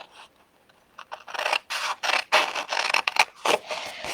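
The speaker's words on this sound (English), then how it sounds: "And cut that out right on the score line." Scissors cut a paper gift box along its score line, a series of close, crisp snips and scraping glides in irregular bursts, growing busier after a quiet start, with no talking.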